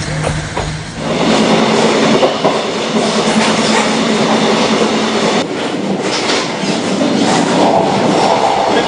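A train rumbles past steadily and loudly, with a continuous roar and faint rhythmic clatter of wheels on the rails, no voices.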